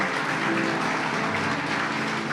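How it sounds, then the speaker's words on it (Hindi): Congregation clapping together in a church, a dense, steady wash of many hands filling the room at full loudness with no pauses. "Give the mighty clap offering to the Lord."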